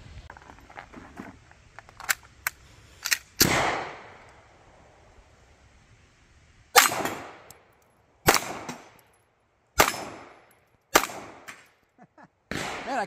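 Sig Sauer P320 X-VTAC pistol fired at bowling pins outdoors: a series of sharp, loud single shots at irregular intervals, about eight in all, each with a short decaying tail, plus a few fainter clicks early on.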